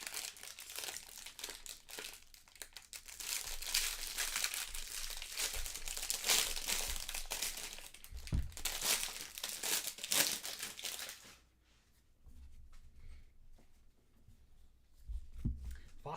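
The foil wrapper of a Bowman baseball trading card pack is torn and crinkled close up in dense bursts of crackling, then goes quieter with a few soft handling rustles and light thumps near the end.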